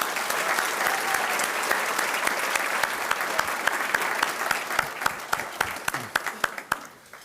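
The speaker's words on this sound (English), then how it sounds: "does deserve a huge round of applause" A crowd applauds at an athletics hall of fame induction ceremony, steady clapping that thins out into scattered individual claps toward the end.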